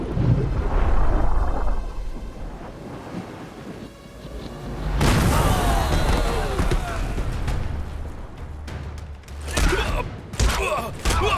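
Grenade blasts in a Hindi-dubbed war action movie scene: heavy booming explosions with rumbling, debris-like roar, a big blast at mid-point and another near the end, with shouted voices in the mix.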